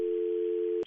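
A steady telephone dial tone drones evenly after a call drops on an international line, then cuts off abruptly with a brief click and a shifted tone at the end.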